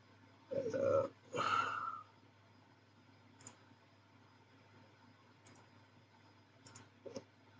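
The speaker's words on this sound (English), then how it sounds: "you can hear me doing a lot of clicking" Sparse mouse-style clicks from someone working at a computer: a few sharp, faint clicks spread across the stretch, one near the end a little louder, after two brief louder bursts at the start, with quiet room hum between.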